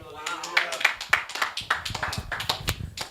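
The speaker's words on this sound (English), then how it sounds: "Did we give her a good clap, surely?" Audience applause at a Sunday youth church service, a short patter of hand claps of moderate loudness mixed with voices talking over it.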